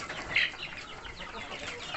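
Kampung chickens in Banda Aceh cluck faintly and softly at moderate distance, with one slightly louder call early and low farmyard background noise.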